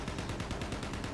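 A machine gun fires in the snowy battlefield of the video game Battlefield 1, a fast, loud string of evenly spaced shots rattling without pause.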